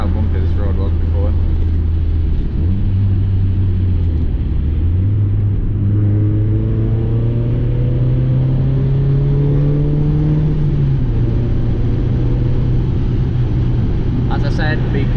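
Mazda MX5 droning along a bumpy 60 road, its steady engine note rising and shifting through gear changes over constant road rumble, with someone talking over it throughout.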